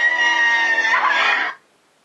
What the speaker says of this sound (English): That was a very quick scream